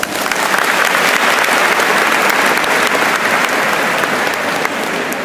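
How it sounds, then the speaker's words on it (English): Sustained, dense audience applause at a school valedictory ceremony fills the room at close range, steady and loud throughout with no voices breaking through. "let us give them a warm round of applause"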